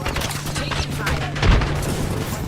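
Automatic weapon fire rattles in an Apex Legends match, a dense close burst of rapid shots with a heavier boom midway, mixed with game effects and players talking.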